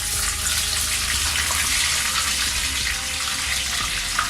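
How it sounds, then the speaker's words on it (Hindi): Whole spices sizzle in hot oil for mutton karahi, a steady loud hiss filling the whole stretch without pause, heard close with no voices. "मैं इसके अंदर साबुत मसाले डालता हूँ, जिसमें और इनको थोड़ा सा मिक्स करता हूँ।"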